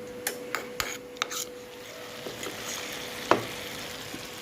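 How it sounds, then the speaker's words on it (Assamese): Fried onion paste stirred into simmering mutton curry, a spoon tapping and scraping the pot several times over a soft continuous sizzle, close by. "আঞ্জাত এই পেষ্টখিনি মিহলি কৰি দিম"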